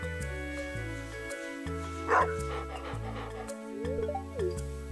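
Short yips and excited barks from a cartoon dog in the farming game Stardew Valley Expanded, rising over steady looping background music, a few quick bursts near the middle and end.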